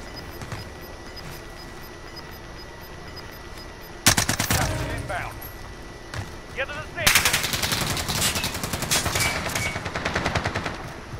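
Gunfire from above in Call of Duty: Modern Warfare, quiet at first, then sharp rapid automatic bursts breaking out loud and close, pausing, and resuming in sustained rattling strings, with a voice talking through the game sound.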